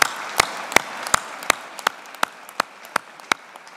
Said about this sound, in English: we should give Tim a big round of applause for what he's doing on our collective behalf.